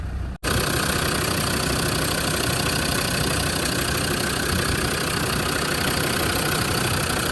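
A 2003 Land Rover Defender 90 Td5 diesel engine idles steadily and evenly, a constant low rumble with a faint rattle, close and uninterrupted after a brief dropout at the start.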